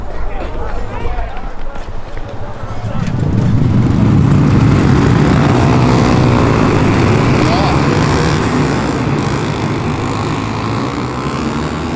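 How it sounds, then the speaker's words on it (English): Honda CBR 125R race motorcycles heading onto the grid for an endurance race, a loud, close, continuous engine drone that swells after a few seconds while a voice talks over it. "Bikes are just getting ready to start coming onto the grid now."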